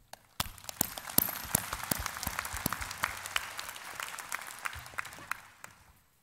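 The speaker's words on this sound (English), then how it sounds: "why don't we give them a round of applause?" An audience at a university graduation ceremony in Hanoi claps for parents and families, sharp individual claps standing out over a softer spread of applause that builds quickly and tapers off near the end.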